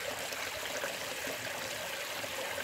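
Water rushing steadily through a gold sluice box fitted with silicone mats, a constant broad splashing flow that fills the whole clip with no pauses and no voices.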